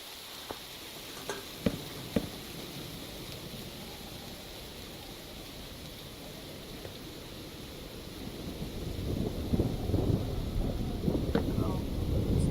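A low rumble of video game thunder swells in the background under a steady wash of rain, growing louder near the end, with a few sharp clicks early on.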